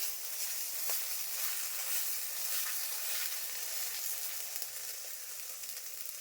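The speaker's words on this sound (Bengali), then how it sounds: "এইভাবে করে হাত দিয়ে দিয়ে কড়াইতে ছড়াই দিতে হবে" Batter for fish roe fritters spreads into a wok and fries with a continuous soft sizzle, fairly quiet and steady throughout, without speech.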